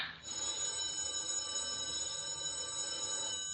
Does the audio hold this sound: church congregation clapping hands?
no